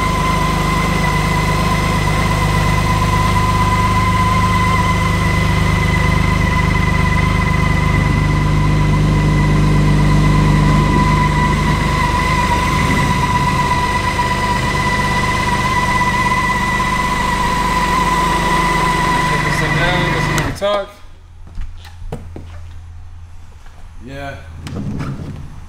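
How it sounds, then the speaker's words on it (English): A 2013 BMW K1600 GTL motorcycle engine idles steadily up close with a smooth, even hum and whine for about twenty seconds before cutting out, leaving a low rumble and quieter background. "Let me fire this thing up so you guys can hear it run."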